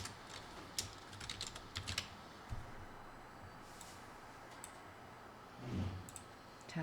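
Quiet, close keystrokes on a computer keyboard while a Korean document is being made, irregular clusters of clicks with pauses between them and no speech.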